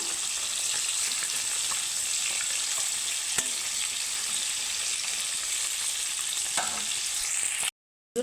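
Pieces of katla fish fry in hot oil with a steady, close, crackling sizzle that holds throughout, broken by a few faint pops and a brief gap of silence just before the end.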